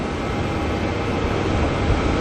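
Fiji Airways flight 461 bound for Wellington passing over Auckland Airport, a steady broadband jet roar filling the clip evenly at moderate distance with no talk.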